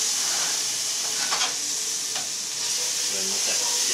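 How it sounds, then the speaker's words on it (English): Garlic sautéing in a hot oiled pan gives a steady close sizzle, with a few brief scraping stirs cutting through around the middle and a faint voice briefly underneath. "go ahead and get our garlic sauteing"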